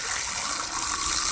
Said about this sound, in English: got the water on. I'm gonna go ahead and rinse out this